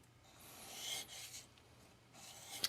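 A knife is drawn in a couple of long strokes across a King 1k resin bonded diamond sharpening stone, giving soft, quiet rasping sweeps with a brief pause between them.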